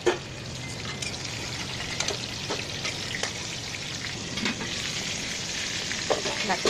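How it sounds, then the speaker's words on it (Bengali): Fish rubbed with salt and turmeric fries in hot oil, a continuous close crackling sizzle with small spattering pops and occasional brief clicks throughout. "এরপর মাছটা ভাজবো"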